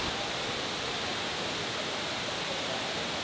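A waterfall in Chapada Diamantina, Brazil, pours with a steady, dense rushing roar, close and unbroken throughout, with no voices.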